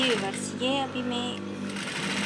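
Sewing machine stitching the neckline of a baby girl's frill frock, a steady close mechanical whir with a voice talking over it.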